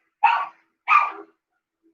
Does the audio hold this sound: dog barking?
yes